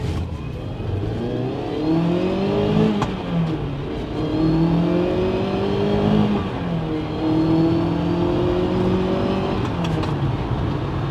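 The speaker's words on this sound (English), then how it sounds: "Let's just do a pull through the gears and see what the engine is like." A Ferrari 308 GTB engine pulls hard through the gears, its steady rising note breaking at each upshift into repeated climbing sweeps, loud and close from inside the car.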